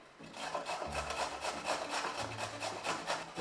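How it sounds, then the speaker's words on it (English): Salad vegetables rubbed against a hand grater in quick, even strokes, a steady rasping scrape repeating close by without pause. "Do you want to have a go at grating?"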